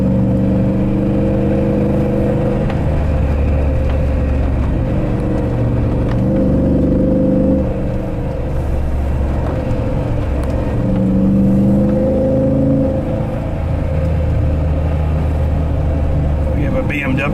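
A 500 HP Hemi Jeep JK drives a mountain road, its engine a steady low rumble rising and falling with gear changes, heard from inside the cab under people talking.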